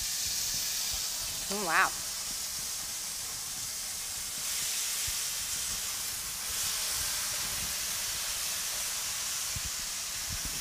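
Loud steady hissing and sizzling of tomato sauce boiling hard in a hot pan while cooking Spanish rice, with a brief voiced exclamation early on.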